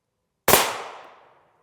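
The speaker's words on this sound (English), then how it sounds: "First shot at the top of the plate." A single M193 55-grain rifle shot strikes an AR500 steel armor plate, making one loud, sharp crack that decays over about a second, with silence before it.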